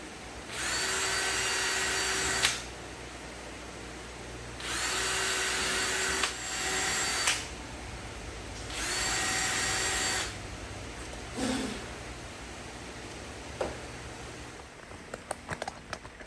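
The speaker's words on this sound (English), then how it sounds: "Let's drill out these holes." A power drill whirs in several bursts of a couple of seconds each while drilling holes in wood, separated by pauses, followed by a few knocks and clatters near the end.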